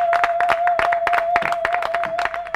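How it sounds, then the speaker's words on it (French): Audience applause on an international comedy show from Congo-Brazzaville, a brisk run of close hand claps from a small crowd, with a steady tone humming beneath. "Il faut applaudir"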